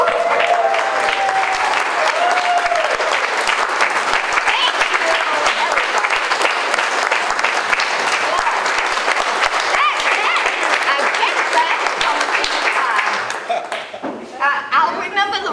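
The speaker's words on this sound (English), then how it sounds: "round of applause?" Standing ovation for Agnes at a town cane presentation in Brookfield, New Hampshire: loud, dense, continuous clapping from a crowd, fading near the end as voices and chatter come through.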